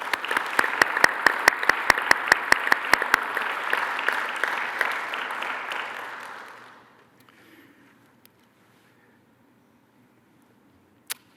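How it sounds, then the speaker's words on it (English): Audience applause at a first responder recognition award ceremony, dense steady clapping with a few sharp nearby claps that fades out around seven seconds, leaving near silence and one last isolated tap. "Please join me in a round of applause for them."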